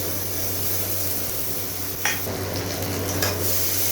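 Bowl-rinsing water goes into a sizzling fish masala for Mourola machher jhal, a steady hiss of frying with a couple of sharp splash-and-spit bursts as the liquid hits the hot pan.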